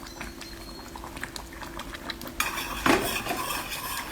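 A spoon stirs a browning mixture in plenty of oil in a pot, making a steady close bubbling sizzle with light scraping taps and a louder clatter near the end.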